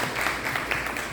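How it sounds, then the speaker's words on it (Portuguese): Brief, light applause from a literary talk audience for guest Antero Pereira Filho, soft scattered clapping lasting about a second. "Uma salva de palmas para o Antero"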